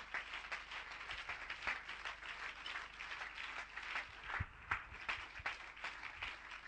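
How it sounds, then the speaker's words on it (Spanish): Congregation applause in a church during a Spanish-language service, a steady wash of many hands clapping at moderate distance, with a few louder claps standing out and faint voices underneath. "Dele un aplauso al Señor Jesucristo, hermano."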